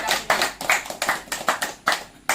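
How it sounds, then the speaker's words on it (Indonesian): Audience clapping at an Indonesian martial arts school (perguruan) gathering: loud, fairly slow rhythmic claps in a steady beat, about nine distinct bursts, close and clear with no talking. "Tepuk tangan buat Bos Isep."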